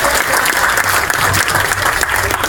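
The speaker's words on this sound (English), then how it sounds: "A round of applause for her." A crowd at a maker fair electronics demo claps loudly and continuously for a stage volunteer, a close, dense wash of applause with no pause.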